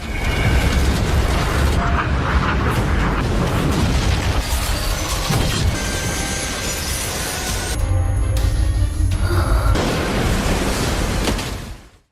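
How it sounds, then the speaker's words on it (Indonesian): A huge explosion tearing through a spaceship in an animated series, a loud sustained roar and rumble with shifting bursts and debris noise that cuts off abruptly at the end. "Ledakan besar pun terjadi di pesawat itu."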